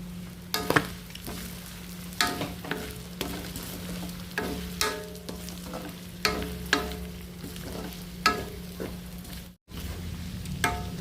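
Chili goes into a frying pan and gets stirred, giving irregular clacks and scrapes of a utensil against the pan over a soft ongoing sizzle, close by, with a brief dropout near the end and no talking.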